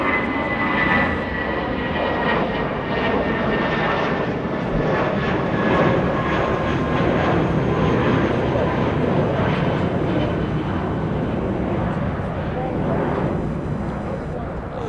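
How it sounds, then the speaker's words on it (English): A Spirit Airlines Airbus A320 lifts off at Los Angeles International Airport, its engines a loud, sustained roar that swells and holds for the whole stretch while someone talks over it. "We got a good old Yellow Spirit Airlines lifting off"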